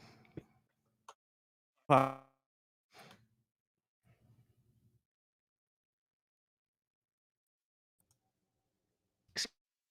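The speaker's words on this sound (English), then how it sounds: "Excuse me. Had to sneeze." A single sharp sneeze bursts out near the middle, amid scattered faint breaths and small noises, with long quiet gaps.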